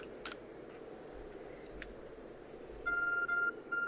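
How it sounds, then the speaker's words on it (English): Electronic beeping from the ARC phone in the video game Pokemon Legends: Arceus, a steady tonal chime in the last second over quiet game ambience with a few earlier clicks. "Your ARC phone is beeping."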